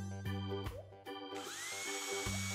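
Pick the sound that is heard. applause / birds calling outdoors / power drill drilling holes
power drill drilling holes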